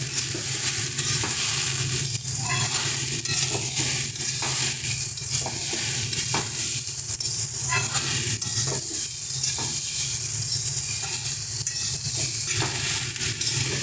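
Potato curry with salt and slit green chilies fries in a pan, a constant close sizzle broken by repeated scraping and stirring strokes and soft clatter, with no talking.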